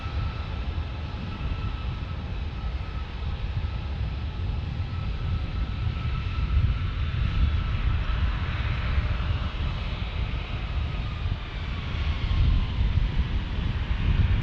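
A Southwest Airlines airliner at San Diego airport, its engine roar a steady, broad rumble that holds at an even level throughout, with wind buffeting the microphone and no talk.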